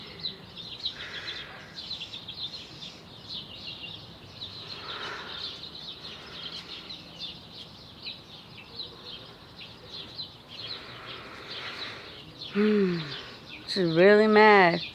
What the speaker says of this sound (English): She's really mad at the cats.